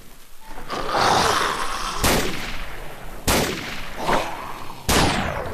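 Gunshots ring out in the PC video game Fallout: New Vegas, four sharp, loud reports spaced a second or so apart, each trailing off with a ringing decay over a background of game noise.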